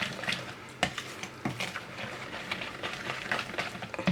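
Yorkshire pudding batter is mixed in a bowl after salt and black pepper are added, giving close irregular clinks and scraping taps from a utensil against the bowl over a quiet background.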